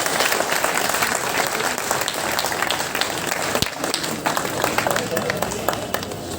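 Loud, dense applause from a crowd welcoming Kailashi at Rajeev Chaudhary's village rally in Lado Sarai, sustained throughout with sharp overlapping claps and crowd voices mixed in.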